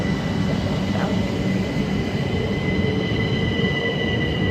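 Steady low rumble of a Class 375 train departing Sittingbourne station, England, with a faint high-pitched wheel squeal and tonal whine running through it, continuous and fairly close.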